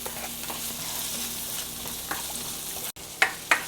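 Onions sautéing in oil in a pan make a steady close sizzle, with a few sharp stirring scrapes near the end.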